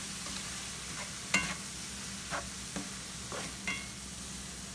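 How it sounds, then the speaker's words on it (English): Chicken and cauliflower rice with salsa being stirred in a pan for keto arroz con pollo, a few soft scraping strokes over a low steady background, close and fairly quiet. "I'm going to go ahead and give that a stir."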